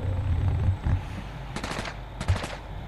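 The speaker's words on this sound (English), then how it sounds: "Someone's even got burst SMG." Two short bursts of burst-fire SMG shots in the battle royale game Fortnite, crisp and sharp, ringing out over low rumbling ambience and scattered game noises.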